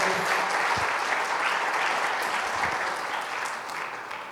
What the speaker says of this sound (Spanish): un aplauso de ánimo, de alegría, si te alegra esto